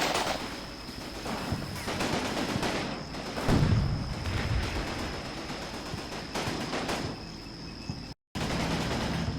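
Fire support gunfire in the video game Combat Mission, set in Berlin 1945, rattles continuously as dense machine-gun bursts and scattered shots over battle noise, loud and sustained without pause.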